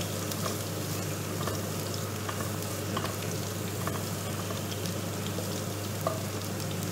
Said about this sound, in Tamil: இது லைட்டாக அந்த எண்ணெயிலே ஃப்ரை ஆகட்டும்